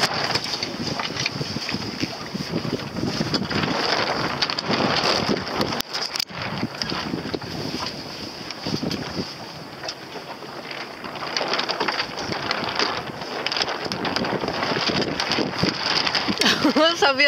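Gusty wind buffets a sailboat at sea during a regatta, a steady roaring rush with microphone buffeting and water noise, while people talk over it.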